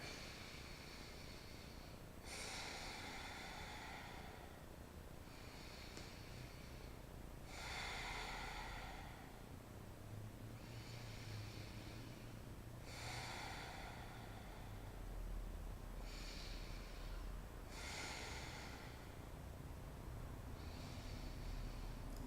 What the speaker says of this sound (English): for yogic breathing, we're going to inhale and exhale through our nose.